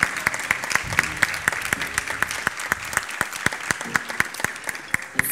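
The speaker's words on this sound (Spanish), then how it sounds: "Fuerte aplauso para esta egresadita" A crowd at a kindergarten graduation ceremony claps steadily and close by for a graduating child, with a dense run of sharp, even hand claps and a few faint voices underneath.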